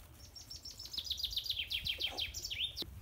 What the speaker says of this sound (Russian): Птичек послушаем.